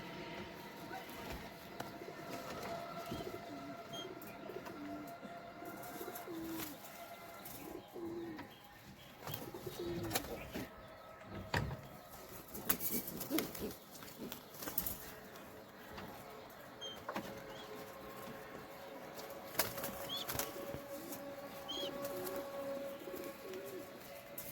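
Native pigeons in a coop give low, continuous cooing amid rustling and scattered chirps, with brief flurries of movement, at a fairly faint level throughout.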